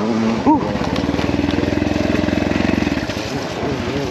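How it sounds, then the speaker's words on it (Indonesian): A dirt motorcycle engine keeps running even though its ignition switch is off, stopped partway along a trail, giving a close, steady, rapid single-cylinder putter that lasts about two seconds and then fades into rough idle noise. "Mesinnya malah nyala ini padahal kontak mati."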